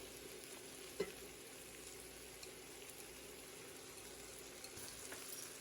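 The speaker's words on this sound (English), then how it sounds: "after the garlic's been cooking for 30 seconds, we're going to add in our Trinity" Garlic and Trinity vegetables sautéing in a pan for pasta jambalaya, a soft, even sizzle with one brief utensil knock, faint and without speech.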